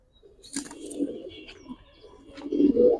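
Pakistani Giribaz high flyer pigeons give low, soft coos at close range, with a brief flutter of wings in between.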